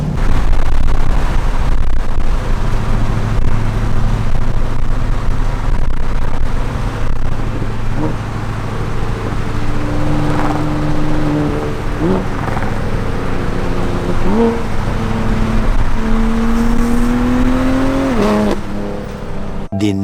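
A supercharged Mustang and a Lamborghini race side by side, their engines roaring loud and continuous over road noise, with rising gear-shift sweeps repeating as they accelerate hard.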